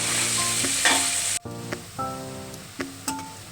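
Finely chopped onions with curry leaves and asafoetida frying in oil for batata poha, stirred in the pan: a loud crackling sizzle broken by several scraping strokes of the spoon, with no voices.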